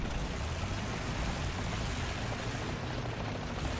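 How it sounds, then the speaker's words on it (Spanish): Helicopter rotor drone in the War Thunder tank battle game, a steady dense broadband whir with low thudding beneath, continuous and fairly distant throughout, no talk. "Estoy escuchando un helicóptero."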